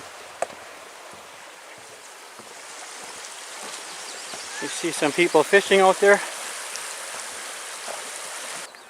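The Manistee River in Michigan flows beneath a suspension bridge with a soft, steady rush of moving water, while someone talks and a few sharper sounds briefly rise above the flow.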